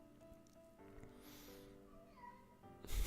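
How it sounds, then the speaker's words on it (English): An upset house cat meows in drawn-out, wavering cries at moderate distance, followed by a louder rustling burst at the end. "Oh, my cat's upset."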